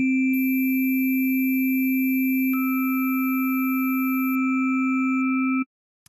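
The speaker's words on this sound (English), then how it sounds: "I'm playing a sine wave right now, and if I draw in, you can see those two peaks start coming up" A synthesizer sine wave from Ableton Operator holds a steady pure tone, with drawn-in harmonics adding higher partials partway through. It stays loud and even, then cuts off abruptly near the end.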